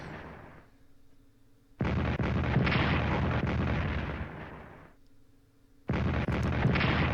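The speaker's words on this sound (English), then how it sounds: "Bombarding away." Artillery bombardment in the World War I strategy game Strategic Command, heard as two loud, sustained bursts of booming shell fire separated by a quieter rumbling lull, with no talking.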